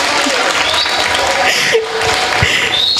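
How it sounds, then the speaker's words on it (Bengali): Audience at a Bengali stage drama applauding loudly, a dense, continuous wash of clapping from many hands that fills the space throughout, with a voice speaking briefly over it. "একটু জোরে হাততালি হবে"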